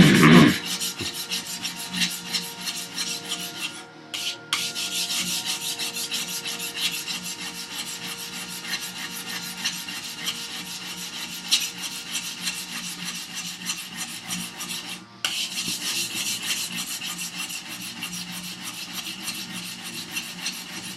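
A plane iron is sharpened by hand on a sharpening stone, a steady close-up rasping rub sliding back and forth for the whole stretch, with two brief pauses, and no talking.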